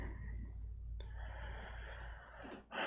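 Keyboard typing with a firm Enter key press, short clicks over a steady low hum, close and alone with no talk.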